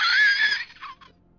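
A voice imitating a horrid scream: one shrill, strained shriek that trails off into a breathy rasp, close and brief, lasting about a second.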